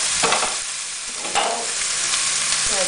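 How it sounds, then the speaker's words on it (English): A whole onion drops into browning beef in a pot, giving a strong, steady sizzle of frying meat with stirring scrapes and clatters, close and loud, with no talking. "I'm going to add in my whole onion."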